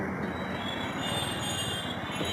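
A train runs along the rails with a steady, loud rumble, its wheels squealing continuously throughout.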